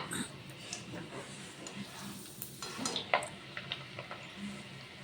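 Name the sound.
peanuts frying in hot oil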